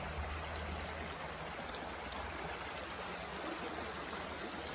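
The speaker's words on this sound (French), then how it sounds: "Et voilà la rivière." A river flows beside a campervan campsite at Treignac, a steady soft rushing and trickling wash with no breaks, faint and even, with no one speaking.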